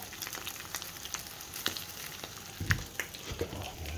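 Cabbage sizzles and crackles steadily in a hot pan, with scattered pops and a few stirring clunks near the end.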